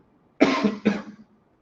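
A single harsh cough in two quick bursts, close and fairly loud, with no talking around it.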